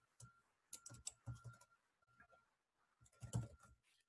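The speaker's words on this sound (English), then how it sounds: "just typing in some mathematics here in LaTeX" Keys on a computer keyboard are tapped in short, uneven bursts of close, crisp clicks with pauses between, while mathematics is entered in LaTeX; faint and alone, with no talk.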